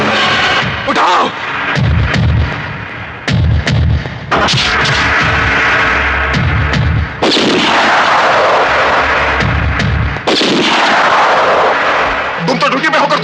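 Loud, dense gunfire from a Hindi action film shootout, repeated heavy bursts with brief gaps between them, dominating the scene with voices faintly underneath.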